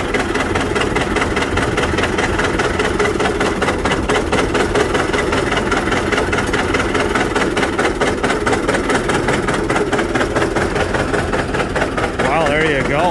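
A small tractor pony motor runs steadily at close range, a loud continuous rumbling drone with a rapid mechanical pulse, while people talk over it.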